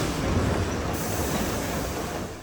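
A vintage 1970s-era MA100 metro train on Naples Metro Line 11 in Italy rumbles steadily along the track, a loud, dense roar of wheels and motors with no voices, easing slightly toward the end.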